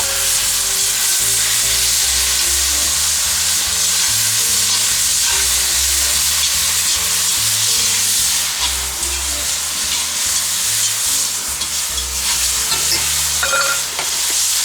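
Sirloin steak stir-frying in a hot pan with soy sauce, lime juice and fish sauce, green beans, garlic and chilies, giving a loud continuous sizzle with a spoon stirring and scraping throughout, close up and with no talking.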